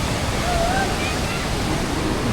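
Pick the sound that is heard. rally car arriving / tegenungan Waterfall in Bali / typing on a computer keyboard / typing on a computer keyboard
tegenungan Waterfall in Bali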